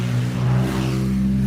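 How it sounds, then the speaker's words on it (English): A loud car engine drones and revs steadily in a brief, close burst on a residential street, with no talk over it. "A loud car."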